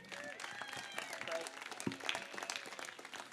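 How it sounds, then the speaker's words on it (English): Applause from the audience at a children's charity gala, a fairly quiet, steady wash of clapping lasting a few seconds, with voices and tonal sounds mixed in the room. "Again, round of applause for Pepe and Dawn."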